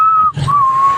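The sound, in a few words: person whistling after eating polvoron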